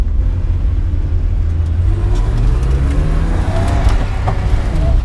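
A BMW E36 M3 Lightweight track car accelerates on a smooth stretch, its engine a steady, loud low rumble and whir, heard close from inside the car, with no talk.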